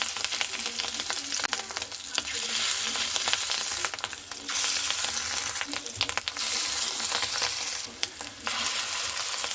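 Ridge gourd and fish roe fritters frying in a pan of hot oil, a dense, continuous close sizzle with occasional brief dips and light stirring clatter.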